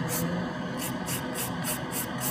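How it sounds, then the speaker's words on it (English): A steady whooshing hum of a large nail dust extractor runs continuously, with faint rhythmic pulses of higher hiss. "I've got this big dust extractor"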